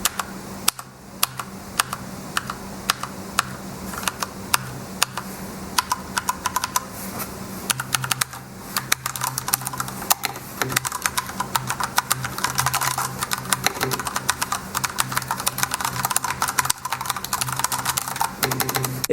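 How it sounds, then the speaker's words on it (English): Steady typing on an ASUS ROG Strix Flare mechanical gaming keyboard with brown tactile switches, a dense run of close, crisp key clacks over a faint background hum, with no voices. "To give you guys a better idea how the brown switches sound, let's do a sound test."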